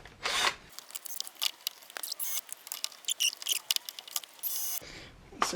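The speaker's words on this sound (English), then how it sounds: "Let's drill the holes out again." A drill bores mounting holes for a 7-inch sealed beam headlamp, with a quick series of short, close whirring and grinding bursts separated by brief pauses and no talk.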